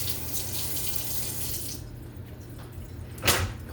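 Tap water runs steadily into a kitchen sink while a finger is rinsed off during stuffed-shell prep, a broad continuous stream that cuts back partway, then a brief louder splash near the end.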